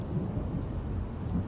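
Low, steady rumble of thunder from a storm rolling in over Fallen Timber Creek, a continuous deep roll with no voices.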